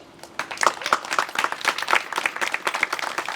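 Steady audience applause, many hands clapping in a dense, continuous patter at moderate loudness, with no voices over it.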